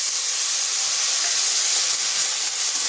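Onions go into hot oil tempered with black cumin and whole cumin, setting off a constant bright sizzling hiss that stays even and close for the full few seconds.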